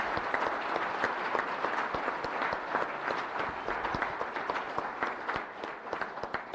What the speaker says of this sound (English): One last round of applause for all of those tonight.